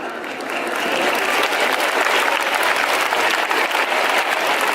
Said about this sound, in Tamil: யோசித்து கைதட்டுறீங்களா?